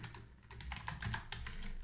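Someone types on a computer keyboard while coding, a quick, uneven patter of close, light key clicks running through the whole moment under a low background hum.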